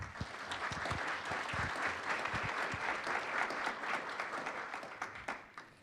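An audience at an education roadshow in Boise, Idaho gives a round of applause: a moderate, even patter of many hands that carries on throughout and fades slightly near the end.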